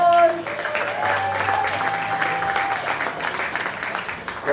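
Audience at a comedy show in a Los Angeles theater clapping in a steady wave of applause that keeps going throughout, with a few voices over the top.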